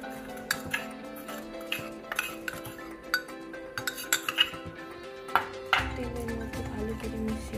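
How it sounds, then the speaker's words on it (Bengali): Oil and powdered sugar are stirred together in a bowl for an eggless zebra cake, an irregular series of close clinks and taps of a utensil against the bowl, with no talking. "প্রথমে তেল দিয়ে দিলাম, আর চিনির পাউডারগুলো মিশিয়ে দিচ্ছি।"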